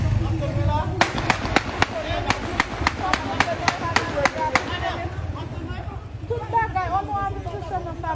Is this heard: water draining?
no